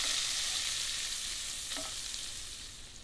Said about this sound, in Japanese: もう一度蓋をして軽く玉ねぎから水分を出してきっちりと火を入れていきます